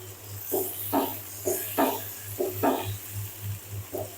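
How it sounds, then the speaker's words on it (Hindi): Carrot and potato curry with a cup of water just added is stirred in a pan, giving about eight rhythmic, soft scraping and sloshing strokes over a low steady hum. "अच्छी तरह से मिक्स कर लेंगे।"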